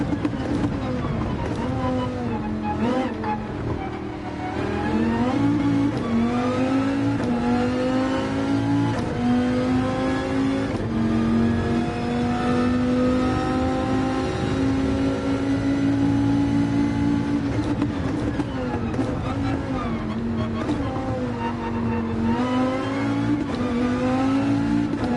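A GR3 race car in Gran Turismo 7 revs hard through quick gear shifts, its loud engine tone climbing and dropping with each change, while a voice talks over it.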